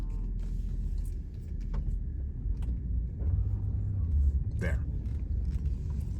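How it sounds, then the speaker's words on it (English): Whirring motor sound from a 1994 Mercedes-Benz S420 with the M119.971 engine as the steering wheel turns, a low rumbling drone with a rising whir midway, under brief talk inside the car. "It's like a motor sound, like a whirring motor sound."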